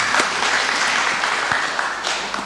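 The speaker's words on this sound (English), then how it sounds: "Good, can you clap for me?" Audience applause at a conference session, a steady wash of clapping from a seated crowd with a few sharper claps standing out over the full span.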